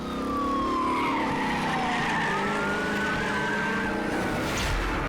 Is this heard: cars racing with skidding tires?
yes